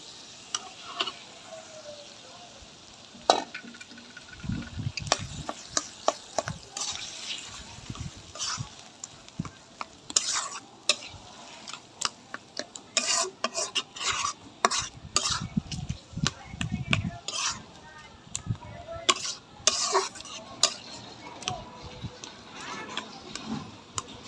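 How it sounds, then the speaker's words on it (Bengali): Spoon scraping and stirring in a pan as boiled taro greens fry in ground shrimp spice paste, with steady sizzle and clinks of utensils against metal throughout, close and busy. "এই মশলাতে ভাজা ভজা করে নামিয়ে নিব"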